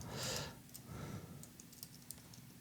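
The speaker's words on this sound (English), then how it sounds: "Hate it when I really hate typing commands." Faint, quick clicking of a computer keyboard while commands are typed during a Minecraft building session, a short burst of keystrokes with scattered taps, no talking.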